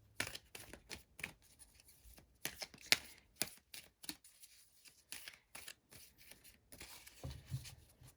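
Tarot wisdom cards shuffled by hand, quick rhythmic riffling bursts with brief pauses between, close and soft, nothing else heard.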